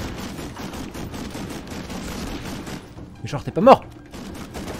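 Gunfire in the PS2 video game Medal of Honor Rising Sun, a dense rattle of shots running under steady play sound, with a voice speaking near the end.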